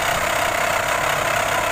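An Arduino UNO keyboard-controlled electric fan running with a steady, loud, close whirring drone of its motor and blades, unbroken throughout and without any voices.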